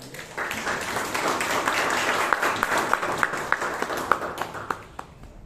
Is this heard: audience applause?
yes